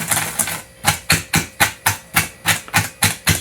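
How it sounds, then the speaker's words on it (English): A whisk mixes white sugar, brown sugar and cinnamon in a bowl. About a dozen sharp, rhythmic scraping strokes sound close up, with no talking. "Now we take our whisk and we just whisk these together."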